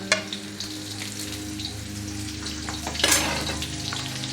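Green chili, garlic and ginger frying in hot oil for veg manchurian, a steady close sizzle with a louder burst of crackling partway through as the pan is stirred.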